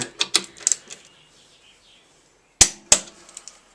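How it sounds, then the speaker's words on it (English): A torque wrench clicking as it tightens a bolt into a cast iron thread on a Harley-Davidson 883 Iron motorcycle: a cluster of sharp ratchet clicks, a pause, then two loud crisp clicks near the end, close and dry with no talking. "Wind the first click in, and then wind up the torque wrench about 52"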